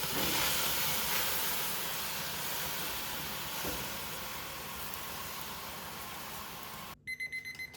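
Steam hisses steadily inside a preheated oven set for baking sourdough bread, a broad even rush that slowly fades, then cuts off and is followed by a few short electronic beeps.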